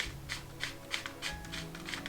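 Cap on a Franchi Affinity Elite semi-auto shotgun screwed back on, a faint, steady series of small ratcheting clicks at an even pace, close by and without talk.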